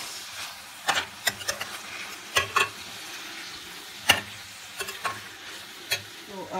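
Rice is stirred into vegetables steaming and frying in a pan, with a constant soft sizzle broken by irregular scraping and clacking strokes of the stirring utensil.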